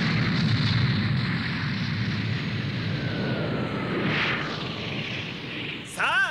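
A cartoon spaceship comes in to land with a loud, sustained rumbling roar and a whooshing descent, ending in a quick warbling electronic chirp.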